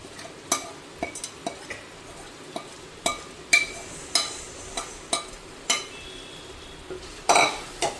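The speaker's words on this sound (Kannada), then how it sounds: "ಈಗ ನಾವು ಏನು ಮ್ಯಾರಿನೇಷನ್ ಮಾಡಿ ಇಟ್ಕೊಂಡಿದ್ದೀವಲ್ಲ ಆ ಚಿಕನನ್ನು ಹಾಕೋಣ." Marinated chicken for biryani tossed into masala in a pan, a spoon or spatula stirring and scraping the metal in irregular knocks and clinks over a soft, steady frying sizzle, close and alone.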